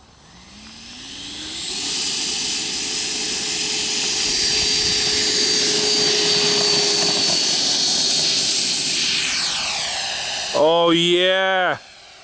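A Taft Hobby Viper Jet V3 model jet with a 90mm electric ducted fan on 6S power spools up to a loud steady whine and holds it, then sweeps past with a sharp Doppler pitch swing before cutting out abruptly.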